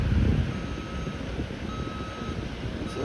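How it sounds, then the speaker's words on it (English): A truck on a box culvert construction site sounds steady reversing beeps at a distance, over broad rumbling engine and site noise. "Got a truck just drove across there."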